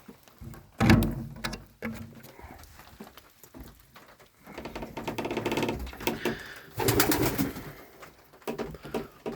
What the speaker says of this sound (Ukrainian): Голуба вже дуже комфортно, гарна голуб'ятня вийшла.